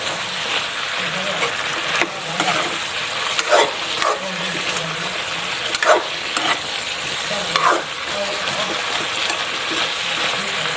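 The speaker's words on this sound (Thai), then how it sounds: "คนครับคน" A spatula stirs a spicy crocodile stir-fry in a pan, with steady sizzling and frying under repeated scraping strokes, close and fairly loud, while a dog barks in the background.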